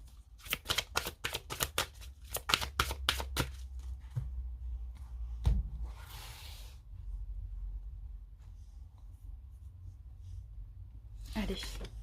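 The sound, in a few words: tarot cards being shuffled and drawn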